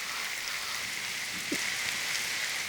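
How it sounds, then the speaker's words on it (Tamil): Faint, steady rain falling, a soft continuous hiss with a few scattered drips, quiet and distant. "மழை விடுற மாதிரி தெரியலையே"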